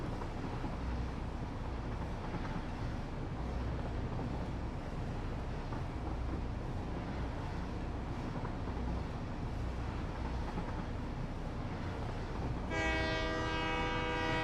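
Train horn sounding in the factory-building video game Satisfactory, a loud harmonic blast near the end over continuous rumbling rail travel.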